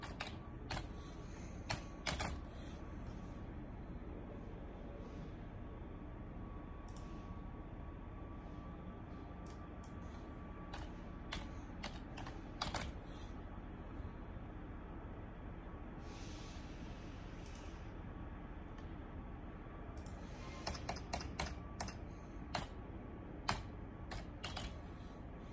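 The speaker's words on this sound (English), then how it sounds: "You're going to type in your UICs." Sparse, faint clicks of keys on a computer keyboard tap out in short irregular bursts over a quiet background hum, with pauses between clusters of keystrokes.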